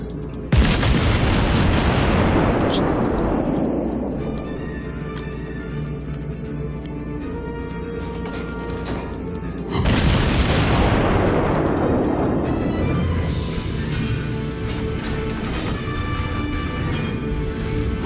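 Two heavy naval gun salvos boom in World of Warships, one at the start and another near ten seconds, each a loud blast that decays into a long rumbling roar over continuous engine and ambient drone.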